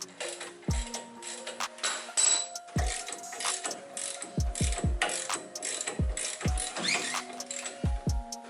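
A ratchet drives a bolt during a Rough Country lift kit install on a truck, making close, repeated clicking strokes with short pauses and a few metallic clunks, with no voices.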